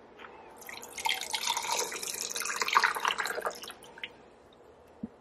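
Coffee poured into a cup, a faint splashing, trickling stream that swells for a few seconds and then tapers off, followed by a small clink.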